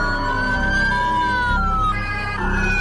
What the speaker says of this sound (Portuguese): Empezaron a escucharse sirenes de ambulancia, porque el nuevo asesino estaba suelto.